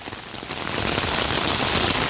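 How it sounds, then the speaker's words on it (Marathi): Heavy rain pours down in Singapore's Palawan Greens, heard from under an umbrella, in a dense, steady hiss that swells slightly louder partway through, with no voices. "हे जोरदार धमाकेदार पाऊस येतोय"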